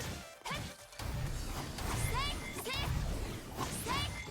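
Explosions and crashing impacts burst from combat in the video game Honkai Impact 3rd, with whooshing effects and layered game sounds over several seconds, with voices mixed in.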